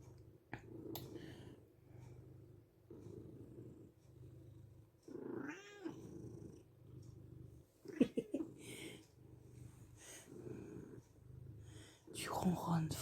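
A cat purrs loudly and steadily in close, rhythmic low pulses that rise and fall with each breath, joined by brief rustles and a few soft clicks.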